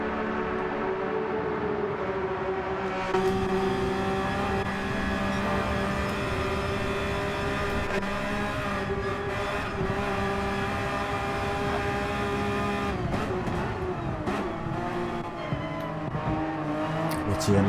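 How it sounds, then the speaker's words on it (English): Two Porsche race cars battle on the Nürburgring Nordschleife, their engines droning steadily with a few shifts in pitch as they pass. A commentator talks over the noise. "The two Porsches battling it out then."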